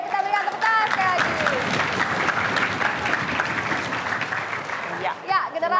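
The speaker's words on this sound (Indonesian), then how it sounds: "Bagus kita berikan tepuk tangan sekali lagi" Students at an Indonesian school lesson break into loud, dense applause that fills the room. Voices call out at the start and again near the end as the clapping thins.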